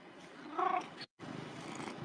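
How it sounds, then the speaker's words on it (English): Cat purring loudly, a close, continuous rumbling purr with a brief swell, broken once by a short silent gap. "Can you hear that? She purrs so loud."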